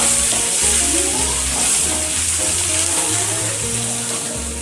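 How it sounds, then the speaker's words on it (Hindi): Chopped medium onion frying with a bay leaf in a hot pan until brown, a steady close sizzle with faint stirring scrapes running throughout. "अब प्याज को हम ब्राउन कलर आने तक फ्राई कर लेंगे"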